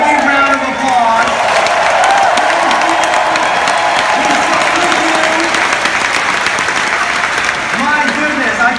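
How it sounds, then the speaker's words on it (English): Audience at a large financial-company convention applauds veterans, a broad, continuous wash of clapping with some cheering, while a voice carries over the top throughout. "Can we give them a big round of applause?"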